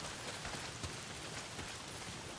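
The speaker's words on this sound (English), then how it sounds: "Well, not if it's pissing down rain." Heavy downpour in the video game Days Gone, a dense, steady hiss of rain falling on surfaces at a moderate level with no talk over it.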